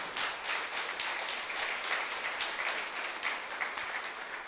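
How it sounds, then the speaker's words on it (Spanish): A church congregation claps steadily through a sermon, dense continuous applause filling the hall at an even, loud level with no speech over it. "Dale un aplauso al Señor."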